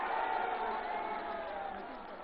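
Rally crowd at a party workers' meeting in a college ground, giving a sustained, loud wash of cheering and clapping that stays steady for a couple of seconds and fades only slightly, with no speech on top.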